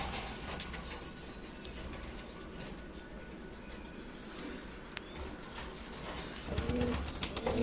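Faint pigeons coo softly as they clamor for feed amid a busy outdoor background hum, with a few brief bird chirps and a low rumble near the end.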